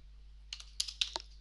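Several quick, light keystrokes tap out a number on a computer keyboard, close and crisp over a faint steady hum.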